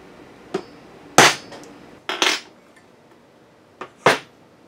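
Sharp metal hammer strikes on transfer punches marking holes for a 65mm throttle body adaptation, a few scattered taps and heavier blows, some doubled, close and distinct against a quiet background.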